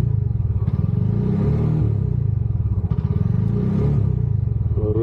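A 2025 Bajaj Maxima Z CNG three-wheeler idles nearby. The single-cylinder engine beats with a rapid, steady chug and some rattling clatter throughout.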